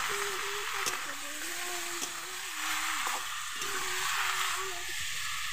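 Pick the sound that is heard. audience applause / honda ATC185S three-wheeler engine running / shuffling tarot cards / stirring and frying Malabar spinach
stirring and frying Malabar spinach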